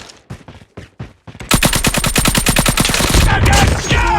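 Video game shooter gunfire: a few separate loud shots, then a sustained rapid automatic burst close by, very loud and continuous.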